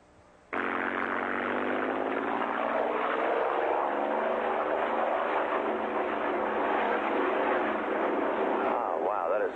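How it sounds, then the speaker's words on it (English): A P-51 World War II propeller fighter plane roars steadily overhead after an abrupt start, its engine drone loud and sustained with a faint rising whine. "P-51 World War II fighter."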